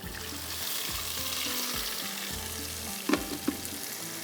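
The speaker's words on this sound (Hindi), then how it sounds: "अच्छा, इसको बड़े अच्छे से आपने भूनना है" Masala for a fish dish fries in a pot with a constant close sizzle, stirred with rhythmic scraping strokes and a couple of sharp knocks near the end.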